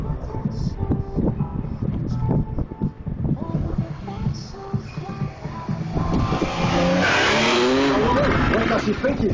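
A new Porsche 911 is driven hard, its engine revving with pitch sweeps and tire squeal building to a loud sustained roar, with a voice talking early on.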